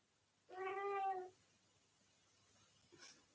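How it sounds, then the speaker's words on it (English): A cat indoors gives one clear, fairly close meow lasting under a second, followed by a faint brief sound and then quiet. "She says meow."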